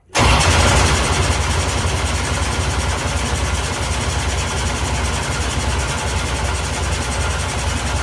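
A billet 500 cubic-inch small-block Chevy is cranked and fires at once, settling into a loud, steady, close-up running roar for the whole stretch with no talk over it.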